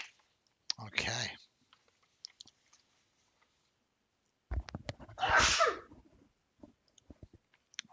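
Two sharp, close sneezes a few seconds apart, separated by quiet clicks and small mouth noises, with no talking over them.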